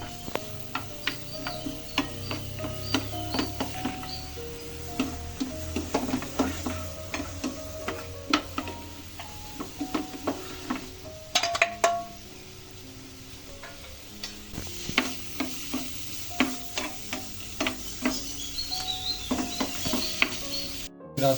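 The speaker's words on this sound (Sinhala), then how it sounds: "රත්තු පසු ඔලිව් ඔයිල් යොදා සුදු ලුණු එක් කරන්න." Garlic frying in olive oil in a pan for a homemade pizza, a steady close sizzle broken up by clicks and scrapes of stirring, with no talking.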